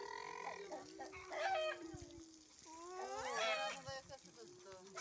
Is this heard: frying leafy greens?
no